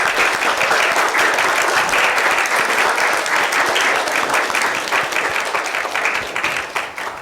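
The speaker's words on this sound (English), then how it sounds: "Let's give all these volunteers a big round of applause." A church congregation applauds volunteers during a multigenerational flower communion service, dense sustained clapping filling the room at steady loudness and tapering slightly near the end.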